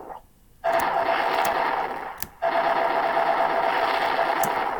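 Rapid-firing rocket gun in a Greenfoot video game: a steady, dense buzzing burst of shots starts abruptly, cuts out briefly, then resumes and runs on continuously at close range.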